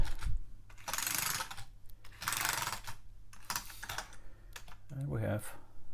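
Close, quick bursts of key presses on an Amiga 500 keyboard under test, dense clattering runs separated by brief gaps, with someone talking near the end.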